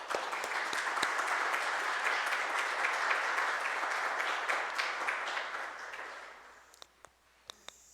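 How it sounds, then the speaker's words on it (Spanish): A congregation at a Catholic Mass for the renewal and appointment of new ministers breaks into loud, sustained applause that fills the room for about six seconds, then thins to a few scattered final claps. "Un aplauso."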